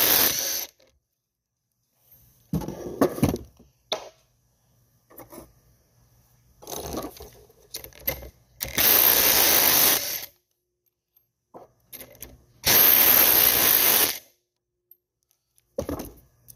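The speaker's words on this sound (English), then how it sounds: "So we use a 24 millimeter with an impact." Impact wrench with a 24 mm socket loosening check valves on a pump, firing in two loud, rattling bursts of a second or so each, with scattered clicks and tool-handling clatter between them.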